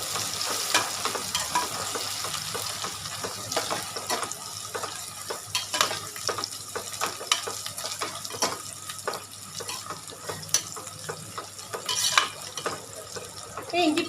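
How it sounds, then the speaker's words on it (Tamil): Crushed ginger and garlic paste frying in a pan for kichadi, a steady close sizzle with occasional stirring scrapes and clinks running throughout. "இஞ்சி பூண்டு நல்லா வதங்கட்டும்."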